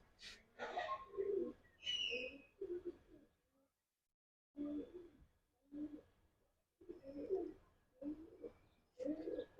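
A white pigeon perched on a house coos close by in a series of short, throaty phrases separated by brief pauses.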